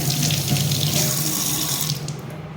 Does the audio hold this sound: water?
yes